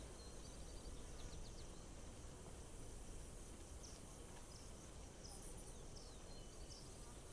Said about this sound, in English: I can already hear the crickets.